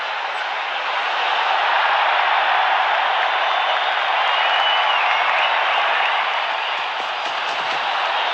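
Steady roar of a large cricket stadium crowd at an India vs Oman match, a dense continuous wash of voices that swells slightly in the middle and holds for the whole stretch without clear individual shouts.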